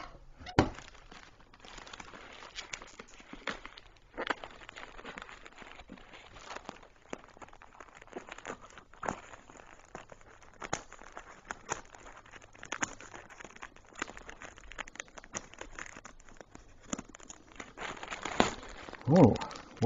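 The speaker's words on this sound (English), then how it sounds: "maybe those scissors would be a good bet right here." A mail package is opened with scissors, producing scattered snips, crinkling of packaging and soft handling thumps, fairly quiet and close, with intermittent talking between the sounds.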